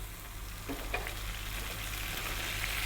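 Garlic frying in a pan over high heat gives a faint, steady sizzle with a low hum underneath and a couple of light clinks of stirring. No one speaks.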